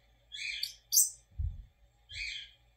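Pet cockatoo giving short high chirping calls, three bright bursts close by, with a soft low thump in between.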